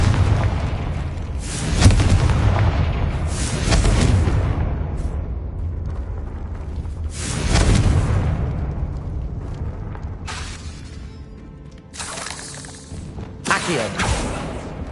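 Repeated heavy booming blasts from the Confringo spell in Hogwarts Legacy, several loud explosions spaced a few seconds apart with rumbling tails over game ambience.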